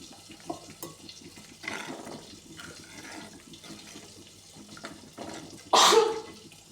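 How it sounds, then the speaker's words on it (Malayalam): Water poured from a vessel into a pan of fish curry seasoned with chili, turmeric and salt, a short close splash and sizzle that rises abruptly near the end, after quieter stirring sounds. "അല്പം വെള്ളം ഒഴിച്ച് കൊടുക്കാം."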